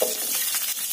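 About ten small onions sizzle and crackle in hot oil with mustard seeds and curry leaves for brinjal drumstick sambar, a brief close hiss with light stirring scrapes.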